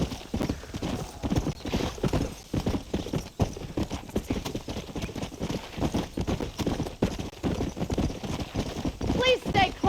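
Steady rhythmic clip-clop of galloping horse hooves in Red Dead Redemption fills the scene, with a brief whinny near the end and voices talking over it.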